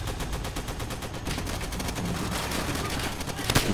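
Rapid gunfire from Call of Duty: World at War crackles continuously in dense, fast bursts, loud and sustained across the whole stretch, with a sharper crack near the end.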